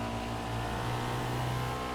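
A video game car engine drones at a steady pitch, a continuous mid-level motor hum with no pauses.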